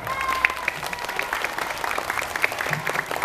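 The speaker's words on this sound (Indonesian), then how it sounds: "tepuk tangan dong buat kita semua" Applause from an audience at an Islamic school Ramadan storytelling event, a crowd of hands clapping in a lively, continuous patter with scattered bright claps, moderately loud and close.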